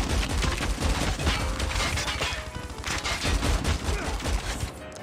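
Enemy gunfire in COD Mobile battle royale, a dense, loud barrage of overlapping shots and bursts that continues almost without a break.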